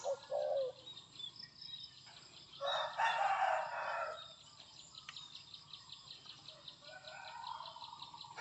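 Roosters crow repeatedly on a morning farm, several loud nearby cock-a-doodle-doos rising over a backdrop of chirping birds and softer distant crowing, with no talking.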